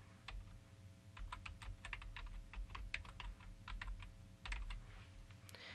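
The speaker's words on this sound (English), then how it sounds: "So I'm going to type Pelican Island." Quiet typing on a computer keyboard, a quick irregular run of light key clicks with a short pause and a final burst, close and alone.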